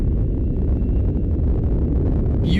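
A rocket launch gives a continuous, heavy, distant roar that rumbles steadily and loudly with no breaks and crackles slightly toward the end.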